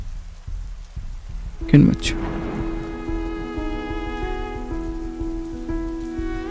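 Steady rain patters on a surface, soft and continuous beneath sustained musical tones, with a brief quiet spoken word and a dull thump near the start.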